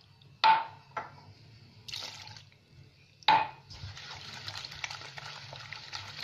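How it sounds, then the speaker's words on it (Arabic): Water poured into pizza dough mixture makes a couple of sharp splashes and clunks, then a steady soft gushing pour, close and fairly quiet. "غادي نزيد جوج كيسان ديال الماء"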